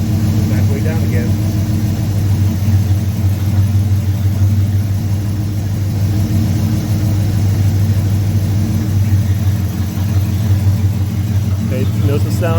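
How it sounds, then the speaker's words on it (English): A 1968 Camaro V8 runs steadily during timing adjustment, a loud continuous low engine hum with slight shifts in pitch, while someone talks over it. "notice the sound change in the engine"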